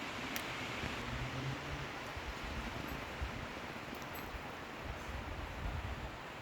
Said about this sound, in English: talking over the fabulous psithurism that is wind in the trees